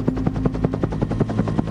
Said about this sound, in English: A command and control helicopter flew 450 meters over the battlefield.